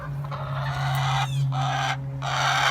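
Chickens squawk and cluck loudly in a coop with a rooster among the hens, calls overlapping in uneven bursts over a steady low hum.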